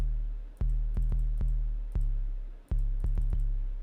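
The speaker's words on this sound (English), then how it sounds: "Start off with a boutique 808." Deep boutique 808 bass hits for a trap beat play in a sparse pattern, each booming low note sustaining and decaying, layered with sharp clicky percussive transients and no voices.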